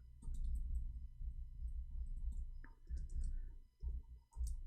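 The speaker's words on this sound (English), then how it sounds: "I cannot read your text when I am typing." Light clicking of typing on a computer keyboard comes in irregular bursts of keystrokes, close and soft, with no talk over it.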